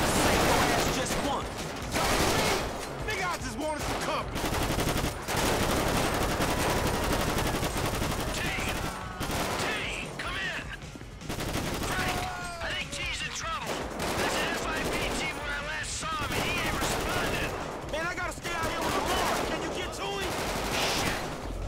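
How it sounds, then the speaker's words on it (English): Grenade launcher and other weapons fire in the game GTA V, with rapid bursts of shots and explosions crackling throughout amid chaotic combat noise, with a voice talking over it at times. "Freaking grenade launcher."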